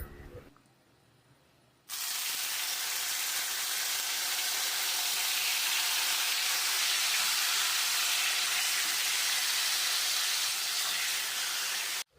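Pork frying in hot oil gives off a loud, steady sizzling hiss that starts abruptly after a quiet moment and holds evenly until a sudden stop.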